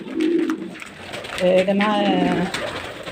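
Homing pigeons coo in soft rolling calls close by, with someone speaking Arabic over and around the cooing.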